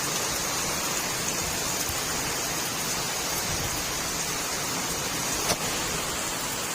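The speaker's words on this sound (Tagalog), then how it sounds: "Ito lakas-lakas ng hangin at ulan." Steady heavy rain with strong wind hisses continuously with a dense, even roar, a brief gust or knock near the end; no voices.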